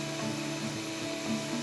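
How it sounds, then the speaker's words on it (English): Vacuum cleaner working the bare interior floor of a 1973 MG MGB where the mat was removed: a steady whining motor drone with shifting pitch as the nozzle moves, moderately quiet and continuous. "Don't forget to vacuum the inside of the car where the floor mat once was."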